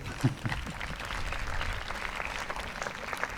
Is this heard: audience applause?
yes